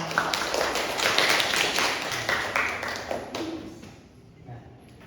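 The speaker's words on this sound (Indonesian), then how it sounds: "Beri tepuk tangan untuk kelompok" Schoolroom class clapping for a presenting group during a religious-education lesson, a steady patter of many hands under faint talk, fading out over the last second.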